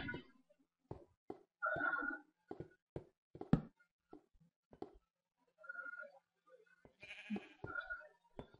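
Sheep bleating in the pixel-art video game Pixel Adventures, several short bleats scattered among clicks and quiet game sounds, sparse and fairly faint.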